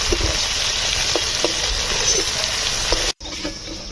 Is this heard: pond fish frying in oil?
yes